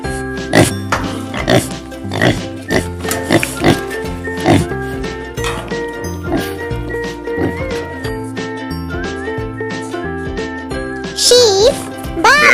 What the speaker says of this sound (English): Pig, oink oink.